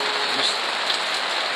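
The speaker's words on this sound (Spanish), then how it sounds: "está lloviendo a mares" Heavy rain pours steadily outside a temple in Omkareshwar, India, as the sky darkens during a total solar eclipse, a dense continuous hiss close by with no voices.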